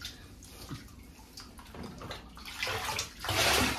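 Water splashes and runs in a tub close by as a Basenji is bathed, with rinsing pours swelling louder toward the end amid small drips and gurgles.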